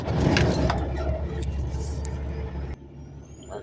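Heavy-duty diesel truck engine, shown with a fault code before a forced regen, starting up: a loud, close rumbling idle with a dense low drone that cuts off abruptly near the end.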